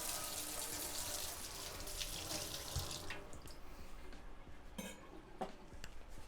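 Tap water runs steadily into a kitchen sink as mushroom-covered hands are rinsed while cooking a stuffed pork tenderloin, a close, full rush for about three seconds before easing to a lighter trickle and spatter.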